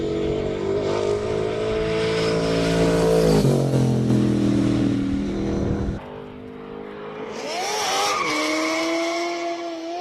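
A classic V8 race car at the Speed Classic street race in Cape Town roars loudly past with hard acceleration, its engine pitch sweeping down as it goes by, then tires squeal and skid as the revs climb again.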